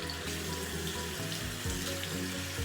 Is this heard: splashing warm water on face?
yes